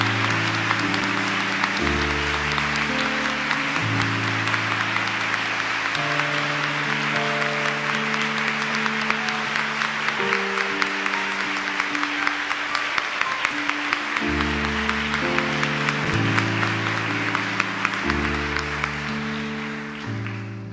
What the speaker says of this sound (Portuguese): recebam uma salva de palmas